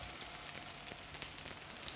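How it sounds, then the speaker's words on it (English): Chinese lamb bubble and squeak cakes shallow frying in a pan of moderate fat on a hob, giving a soft, steady sizzle with faint crackles and pops throughout, quiet and close, with no talking. "I'll demonstrate pan or shallow frying and cook some Chinese lamb bubble and squeak cakes"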